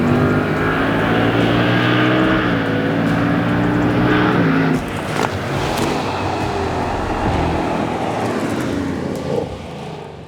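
A 2024 seventh-generation Ford Mustang Dark Horse with a 6-speed manual roars loudly and continuously nearby, its engine note holding high, then dropping back and settling into a rumbling idle-like drone.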